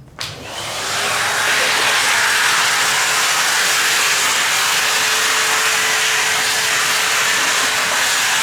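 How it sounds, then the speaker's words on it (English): A vacuum cleaner working on a part of an 1865 Forster & Andrews pipe organ during restoration starts with a click, then rises into a loud, steady, hissing roar that holds for several seconds. "So hopefully, I'll just get the vacuum on this."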